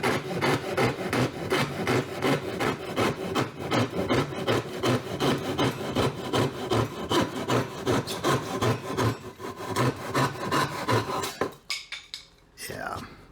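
An Irwin Marples hand saw cuts through wood in quick, regular push-pull strokes, close and loud, before the rasping stops near the end.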